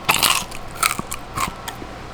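Several loud, close crunches of teeth biting into crispy Asian pork belly crackling, in irregular bursts with brief pauses between bites.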